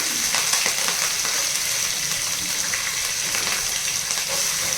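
Dried red chilies and green chilies fry in hot oil with a steady, dense sizzle and faint crackles, close and continuous with no talk over it.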